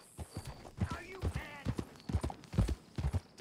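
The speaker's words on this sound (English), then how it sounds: "That's a nice horse." Horse hooves clip-clopping at a walk in the video game Red Dead Redemption 2, steady close hoofbeats under a man's brief spoken greeting.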